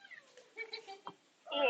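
A house cat meows several times in quick succession, close and clear, with a louder, more strained meow at the end.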